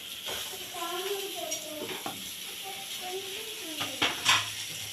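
Onion, garlic and tomato sautéing in oil in a pan, a soft continuous sizzle with occasional stirring clinks and scrapes, while a voice talks quietly over it.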